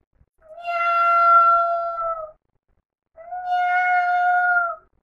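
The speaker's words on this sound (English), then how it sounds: "cat," A cat gives two long, drawn-out meows, each about two seconds, separated by a short pause; loud, close and clear with no other sounds.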